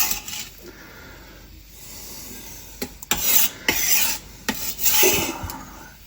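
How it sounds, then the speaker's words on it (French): A knife finely chops mushroom filling for ravioli on a cutting board, giving irregular bursts of close, crisp chopping strokes that grow louder and denser toward the end, with no talking. "Donc on va hacher tout ça finement."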